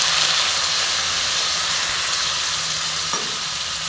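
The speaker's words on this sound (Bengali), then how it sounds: "দেখো আমি সামান্য জল দিচ্ছি।" A splash of water poured into a hot pan of vegetable and fish curry, producing a loud, dense, steady sizzle and steamy hiss close up, sustained without pause and no speech.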